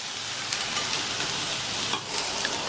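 Green beans and carrots stir-frying uncovered in a pan over a medium flame, a soft, steady sizzle with faint crackles and an occasional light stir, fairly quiet and with no voices.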